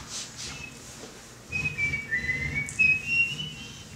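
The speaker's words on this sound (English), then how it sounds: "he can only whistle with his tongue stuck out" A boy whistles with his tongue stuck out, making a thin, wavering tune that is soft and breathy at first, then steadier held notes close to the microphone.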